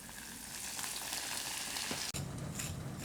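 A breaded vegan cutlet deep-frying in a fryer, with a loud, dense, continuous sizzle and bubbling hiss, briefly interrupted once before carrying on.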